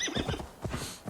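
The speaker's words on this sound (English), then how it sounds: "Maybe a horse is required." A horse in the video game Assassin's Creed Valhalla clip-clops with quick hoofbeats and lets out a whinny, close and moderately loud, with no talking.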